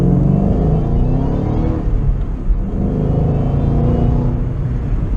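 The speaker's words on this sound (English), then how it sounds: "we'll get it into second gear and accelerate a little bit." A supercharged V8 in a Shelby GT500 pulls hard in second gear, a loud, deep, continuous engine roar heard from inside the car with no talk.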